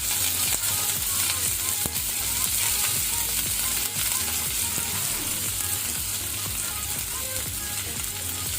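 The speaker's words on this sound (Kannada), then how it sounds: "ಈಗ ಈರುಳ್ಳಿಯನ್ನು ಒಳ್ಳೆ ಕೆಂಪಾಗೋ ತನಕ ಫ್ರೈ ಮಾಡ್ಕೊಳ್ಳುವ ಒಗ್ಗರಣೆಯಲ್ಲಿ" Onions and curry leaves fry in hot tempering oil with mustard seeds for a chicken curry, a loud, steady sizzle with crackling pops and occasional scraping stirs close to the pan, with no talking.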